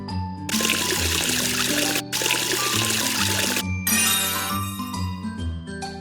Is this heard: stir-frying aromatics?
no